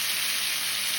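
Lamb loin chops sizzle on a hot barbecue grill, giving a steady, dense, close crackling hiss with no pauses.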